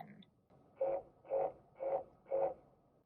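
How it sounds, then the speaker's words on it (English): Four soft, evenly spaced lane-keeping alert chime tones from a 2020 Chevrolet Silverado LS repeat in a steady rhythm, fairly quiet against a faint background. "The chime is another option for an alert."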